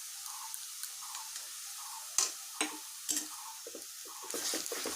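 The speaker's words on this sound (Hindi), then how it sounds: "ये मसाला अब मेरा हो गया है फ्राई, तेल छोड़ रहा है।" Masala for shahi paneer fries in oil, a soft steady sizzle punctuated by several louder scraping stirs, close and alone without talk.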